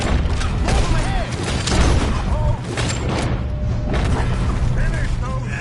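Gunfire in the Red Dead Redemption 2 video game, a dense outdoor fight: repeated close, loud shots and booms keep coming throughout, with voices shouting under the racket.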